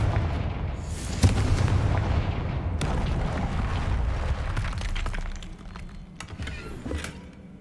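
Blasting-spell explosions from the Hogwarts Legacy video game: a loud burst of booms and shattering cracks, then a rumbling, crackling tail with scattered sharp impacts and a final cluster of blasts near the end.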